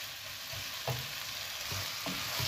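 Pasta is tipped into a pan where onion, garlic and salt are already frying, making a soft continuous sizzle with a few muffled clunks of stirring, quiet and without talk.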